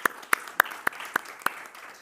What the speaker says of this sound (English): a warm applause for you